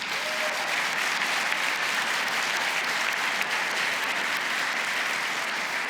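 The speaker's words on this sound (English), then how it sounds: "Can we give them all a round of applause?" A crowd at a student union grand opening ceremony applauds the Board of Trustees, a steady, even wash of many hands clapping, somewhat distant and consistent throughout.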